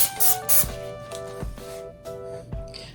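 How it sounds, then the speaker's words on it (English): All-purpose cooking spray hisses onto a cooking rack in short, soft bursts. Faint clicks and light tapping come between the sprays, close up and quiet. "I'm going to spray my rack really well"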